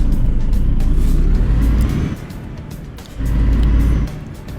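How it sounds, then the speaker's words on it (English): An older big-rig truck engine drones in Euro Truck Simulator 2. Its loud low rumble holds steady, eases off briefly in the middle and then swells back up, close and continuous. "It's an older truck, nice."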